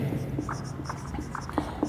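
Chalk or marker scratching across a board during a lecture on breathing and respiration: short, light strokes and taps in an irregular rhythm, close by, over quiet room tone.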